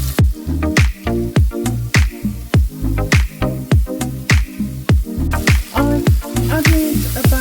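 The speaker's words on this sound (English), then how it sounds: "ginger and the chilli and the oregano to the pan. Listen to that sizzle." Ginger, chilli and oregano sizzle loudly in a hot pan, a steady close frying hiss broken by regular rhythmic stirring scrapes throughout.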